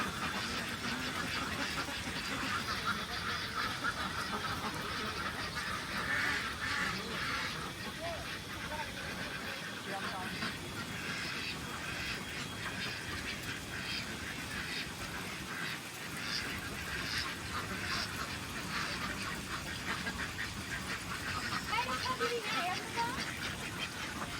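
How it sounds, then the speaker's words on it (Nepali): A crowd of ducks on a Chinese duck farm in Kavre quacks and honks continuously, a busy overlapping chorus at moderate distance, with people talking over the flock throughout. "यस्तो छ हाँसहरू ल"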